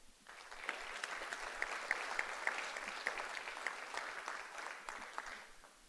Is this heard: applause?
yes